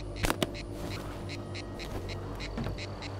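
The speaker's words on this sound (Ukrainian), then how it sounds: "І качка десь." Quacking from a duck in the S.T.A.L.K.E.R. 2: Heart of Chornobyl video game repeats in a quiet, regular series of short calls over a low ambient background.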